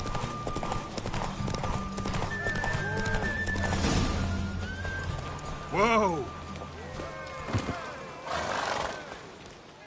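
In The Witcher III: Wild Hunt, horse hooves clip-clop at a gallop under a loud whinnying neigh, with someone shouting briefly and game music tones in the background.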